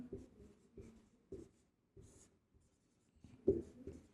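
Chalk or pen writing during a math lesson on arithmetic progressions, a series of short, quiet scratchy strokes in bursts separated by pauses, close by with no talk over it.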